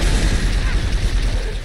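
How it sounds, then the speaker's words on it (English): A brief burst of rumbling booms and shots in Halo 3: ODST, dense and low, with a steady background roar underneath. "I can hear gunfire."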